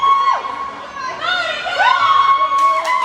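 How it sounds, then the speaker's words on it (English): A Canadian crowd at a hockey game erupts after a goal, a loud roar of cheering, whoops and shouting that swells and holds, with a commentator talking over it. "Celebrations by the Canadian crowd"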